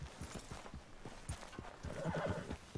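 A horse in the Red Dead Redemption 2 video game whinnies over steady clip-clop hooves, close and moderately loud, with the rhythmic hoofbeats running throughout and no talking.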